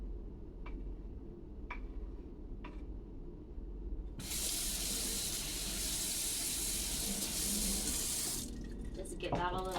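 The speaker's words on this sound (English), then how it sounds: "Just give that a little rinse, really." Tap water runs steadily into a cup being rinsed at a sink, a broad continuous hiss that starts partway through after a few faint clicks and stops near the end, with low background hum underneath.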